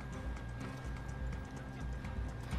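Faint, quick hoofbeats of a horse in Red Dead Redemption 2, a light rhythmic clopping over a low steady rumble, with no talking.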